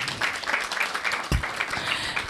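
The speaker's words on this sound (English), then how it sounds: "I want everyone to make a good clap for yourself" A crowd claps and applauds steadily throughout, a dense, even wash of hand claps.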